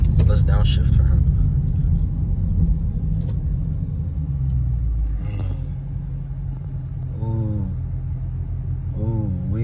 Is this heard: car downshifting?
yes